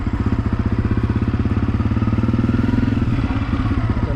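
A Honda CRF250F dirt bike engine chugs in the woods with a loud, rapid, even thumping pulse at low revs, steady throughout, close by and with no talk over it.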